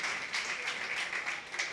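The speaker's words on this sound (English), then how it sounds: "Big applause for Michelle." Audience at a district attorney campaign speech in a bistro applauding the candidate's wife, a short burst of steady clapping from a modest crowd nearby.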